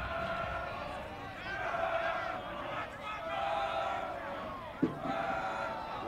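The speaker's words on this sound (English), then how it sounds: "Loud crowd right now. Very loud, loud purple chants." Loud, steady crowd noise from a college football game between Loras and Benedictine, with chanting voices massed across the whole stretch and a sharp thump near the end.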